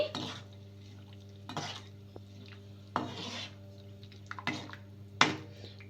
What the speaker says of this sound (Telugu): ఇలా కప్పు సేమ్యా వేసేసుకొని ఒకసారి బాగా కలిపేసుకుందాము